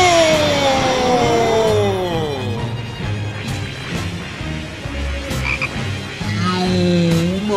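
Frog croaking in a Spanish-dubbed Dragon Ball Z cartoon parody: loud, close croaks and warbling calls repeat over several seconds, mixed with cartoon sound effects and thumps.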